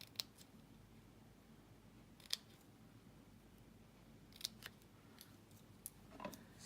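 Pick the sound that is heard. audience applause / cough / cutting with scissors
cutting with scissors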